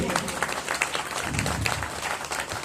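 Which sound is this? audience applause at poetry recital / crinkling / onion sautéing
audience applause at poetry recital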